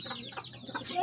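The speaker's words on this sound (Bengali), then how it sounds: "এটা হলো মোরগ।" Backyard chickens and a rooster give a few soft, brief clucks, faint and somewhat distant, with no one talking.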